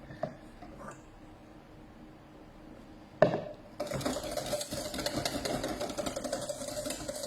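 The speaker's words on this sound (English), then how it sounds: "keep whisking it over that heat. Always whisking, always whisking." A whisk beats hollandaise sauce in a bowl over heat. Quiet clinks come first, then a sudden knock, followed by rapid, steady metallic scraping and tapping against the bowl.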